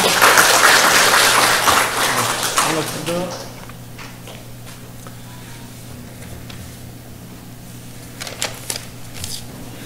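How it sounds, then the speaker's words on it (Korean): An audience at a district lifelong-learning symposium in Ulsan's Buk-gu applauds as the district mayor is welcomed, a loud burst of clapping that fades after about three seconds, leaving a quiet hall with a low hum and a few faint sounds. "큰 박수로 환영해 주시기 바랍니다"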